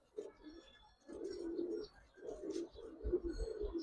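Giribaz pigeons coo nearby in short, low, rolling bursts, several phrases repeating with brief pauses between them and a few faint chirps above.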